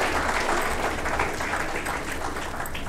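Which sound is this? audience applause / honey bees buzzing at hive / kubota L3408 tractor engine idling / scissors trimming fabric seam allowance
audience applause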